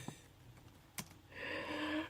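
Fingers type on a computer keyboard in a quiet room: a few scattered clicks, then a brief denser run of keystrokes, close and fairly soft.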